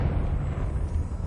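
A Confringo spell exploding in Hogwarts Legacy on PS5, a low, rumbling blast that keeps a heavy, sustained roar through the whole moment without a clear sharp attack.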